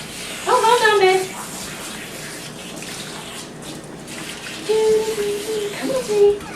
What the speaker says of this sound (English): Want to rinse off and keep rinsing and rinsing until there's no bubbles left anywhere.